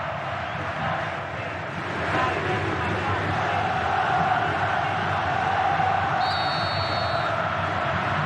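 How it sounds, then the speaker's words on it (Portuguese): Cruzeiro supporters roar from the stands at Mineirão stadium during a football match, a continuous broad crowd swell that rises in volume partway through, with a commentator talking over it. "Vai subindo o volume da torcida do Cruzeiro no Mineirão."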